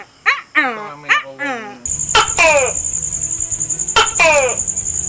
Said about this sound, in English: Yeah, that's the sound that the Tokay Gecko makes.